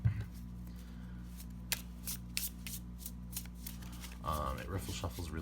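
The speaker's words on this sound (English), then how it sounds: "It riffle shuffles really well, or at least it does when you don't have a tripod between your arms." A Marshmallow Marseille tarot deck of traditional cardstock shuffled by hand, quiet crisp card flicks and riffles in short bursts, with a voice talking near the end.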